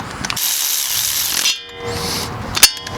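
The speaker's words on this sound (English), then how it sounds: "you can use a ratchet or just keep spinning it with your hand" Close, loud ratcheting as a ratchet wrench tightens a threaded part during an ABS and traction control repair on a vehicle, with bursts of rapid clicking, a short pause and a sharp metallic knock near the end.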